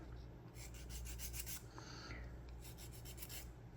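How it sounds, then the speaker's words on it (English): Quiet, close rubbing strokes of sandpaper on a wooden model boat's oars, several back-and-forth passes in bursts with short pauses between them. "So it's just a matter of careful sanding"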